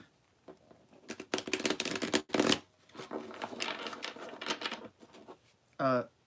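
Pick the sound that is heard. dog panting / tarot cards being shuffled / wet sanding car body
tarot cards being shuffled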